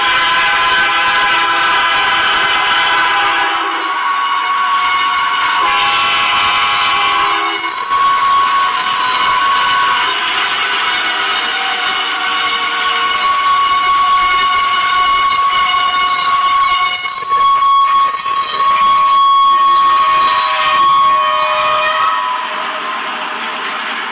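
A 6,000-ton freight train over a mile long barrels past at about 50 mph, a loud, sustained roar of rolling wagons with long horn blasts sounding through it for the whole stretch.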